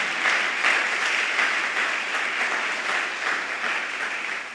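A church congregation claps together in praise, a continuous, fairly loud wash of applause that stays even from start to finish, with no voices on top.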